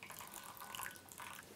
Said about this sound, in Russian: Заливаем кускус, заливаем водой, заливаем так, чтобы у нас воды один к одному было.